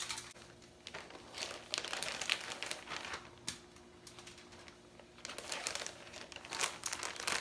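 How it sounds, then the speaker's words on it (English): Homemade flour tortillas being slid into a large Ziploc plastic bag: close, crisp crinkling and rustling of plastic in repeated bursts throughout, with no talking. "to store these tortillas, you can just simply place them into a large Ziploc bag."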